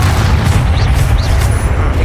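Deep, loud rumbling boom of a Bombarda blasting spell in Hogwarts Legacy, a continuous heavy low-end roar filling the whole moment.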